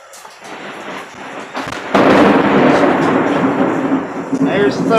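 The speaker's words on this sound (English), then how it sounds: "There's the thunder." Thunder rumbles in after a quieter stretch, swelling into a loud, sustained roll that stays heavy to the end.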